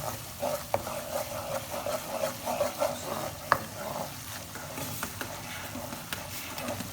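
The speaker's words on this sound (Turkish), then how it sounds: "Bu arada sütümüzü karıştırıyoruz." Milk being stirred in a pot for flour halva with sugar, repeated scraping and clinking strokes over a low simmering background, close, with no talking.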